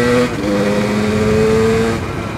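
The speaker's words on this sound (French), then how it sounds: "Quand tu rétrogrades là comme ça avec ton petit coup de gaz là." A motorcycle engine drones steadily and close through a downshift made without the clutch, with a slight rise in pitch as the throttle is blipped, and no talking.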